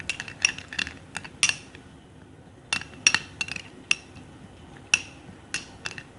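A spoon stirs a guava face scrub mixture in a bowl, giving sharp metallic clinks and scrapes in irregular bursts, close and moderately loud, with quiet gaps between strokes.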